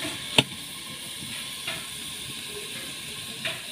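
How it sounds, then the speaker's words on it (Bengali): Mixed vegetables cook in a pan under a lid, giving a soft, steady sizzle and hiss with a few faint clicks and knocks, with no voices. "ভালো করে কষিয়ে সেদ্ধ করে নেব।"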